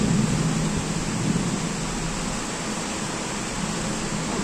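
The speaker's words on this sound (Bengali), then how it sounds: "বিশাল বৃষ্টি, বিশাল বৃষ্টি।" Heavy rain pours steadily outdoors beside a tree, a dense, even hiss with a low rumble that holds at the same level throughout, with no voices over it.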